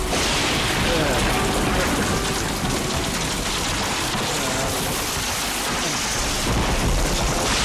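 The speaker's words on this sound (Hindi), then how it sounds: "देख बारिश बहुत है।" Heavy rain pours down steadily and loudly throughout, with rolling thunder rumbling beneath the downpour on a night street, close and continuous with no break.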